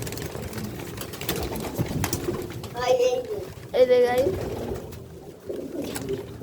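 Pigeons coo softly in a loft, a few short throaty calls standing out over steady background murmur, while a person talks close by.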